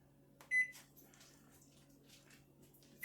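A single short, bright beep from a microwave oven heating a Tupperware Micro Pro Grill of Monte Cristo sandwiches, followed by faint kitchen handling noises and a quiet background hum.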